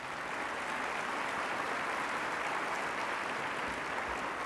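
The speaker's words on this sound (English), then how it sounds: "Let's give them a big round of applause." Steady, dense clapping from a large crowd at a State of the City address, sustained at an even level throughout with no pauses.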